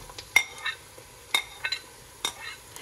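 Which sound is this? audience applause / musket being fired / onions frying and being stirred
onions frying and being stirred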